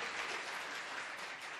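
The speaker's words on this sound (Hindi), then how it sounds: "जोरदार तालियों से एक बार और हौसला बढ़ाएं" Audience at a mushaira bursts into steady, full applause, a dense wash of clapping that holds evenly throughout the short stretch with no voices over it.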